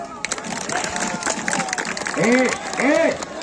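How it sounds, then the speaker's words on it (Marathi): A crowd claps steadily at a village fair wrestling bout between girls, the applause dense and continuous, with loud shouting voices rising over it toward the end. "टाळ्या वाजवा"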